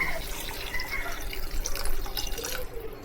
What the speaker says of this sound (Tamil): இப்போது இதில் வந்து 1 glass ஆஃப் வாட்டர் ஆட் பண்ணிக்கலாம்.